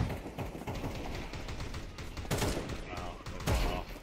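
Rapid gunfire in Counter-Strike 2 Premier: a steady stream of clicking, crackling shots with a few heavier bangs standing out, moderately loud, with voices speaking over it.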